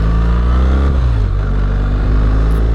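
A BMW R1300GS motorcycle engine runs loud and close, a steady throbbing hum with a slight dip in pitch partway through.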